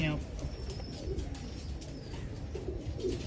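Pigeons on a rooftop loft with a hobbyist keeping a female and male pair, soft low cooing and faint chirps under steady background noise and murmured voices nearby.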